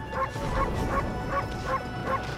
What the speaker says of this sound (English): I do like how you can make Amy bark just by pressing the circle button.